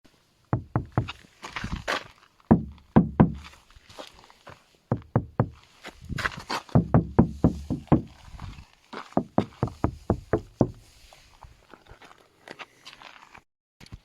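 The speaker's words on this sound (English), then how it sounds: "I will now start to put the window back in." Knocks, taps and clunks from a window being fitted back into a Volkswagen ID.3 car door, irregular close bursts of hard thumps and rattling clicks separated by short quiet gaps.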